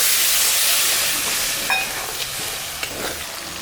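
Steady loud hiss and sizzle as a little water hits spices, tomato and green chillies frying in a pan while cooking cauliflower muri ghonto, with faint stirring clicks and no talking.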